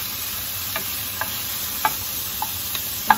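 Frozen riced cauliflower sautés in a pan with a soft steady sizzle, broken by a few light stirring taps and scrapes, close and without talk.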